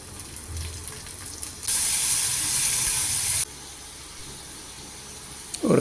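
Loud sizzling and hissing erupts from a hot pan as ginger, garlic, chili and prawns are sautéed for a couple of seconds, then settles into a quieter steady frying crackle.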